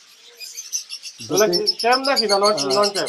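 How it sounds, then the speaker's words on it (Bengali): A Jendaya conure and a Sun conure, both male, call at a bird market, with faint high chirps at first, then loud, close, harsh squawking calls that continue steadily. "একটা জান্ডিয়া কুনুর একটা সান কুনুর"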